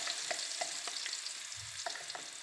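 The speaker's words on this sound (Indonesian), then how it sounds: "Terus kita tumis bumbunya ya." Ground spice paste sautés in a hot pan for a chili chicken-feet dish, a steady oily sizzle with a few soft stirring scrapes and taps, close and continuous without any talking.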